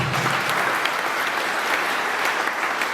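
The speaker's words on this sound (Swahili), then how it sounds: "Piga Yesu makofi mazuri." A congregation at a church sermon in Ruiri, Meru County, claps for Jesus, giving dense, sustained applause that fills the whole stretch at a steady level with no voices over it.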